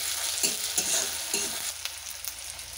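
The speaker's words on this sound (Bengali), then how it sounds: "আমার পেঁয়াজটা ভাজা ভাজা হয়ে গেছে" Onion and tomato frying with sugar in a pan, a close, steady sizzle of oil broken by several soft scraping stirs of a spatula, with no voices.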